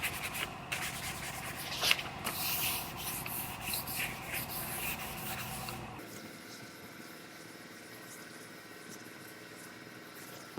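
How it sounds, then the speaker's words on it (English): Hook-it sandpaper on a scuff pad rubbing a panel during paint prep, a quiet continuous scratchy rasp with short strokes for about six seconds, then a faint hum with no sanding. "You put your sandpaper on a scuff pad, it sticks to it, and then you could get up in here"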